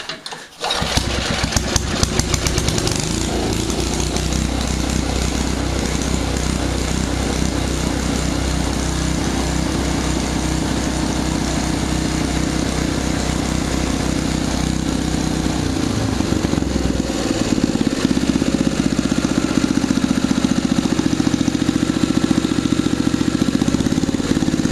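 A Simplicity snowblower engine cranks over and catches, then settles into a steady, loud idle running on close by for the rest of the time, with no talking.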